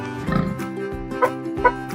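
Several short grunting snorts from pigs, a few low oinks spaced out, close by with no talking.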